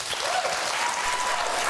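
Studio audience at a political debate show breaking into steady, dense clapping, loud and continuous with no voices over it.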